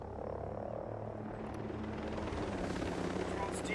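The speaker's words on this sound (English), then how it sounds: "All the choppers have the same noise, so it's hard to tell who's rebel or who's enemy." Helicopter rotor noise in the video game Ghost Recon Breakpoint: a continuous low chopping drone, fairly faint and steady, with a couple of brief high clicks over it.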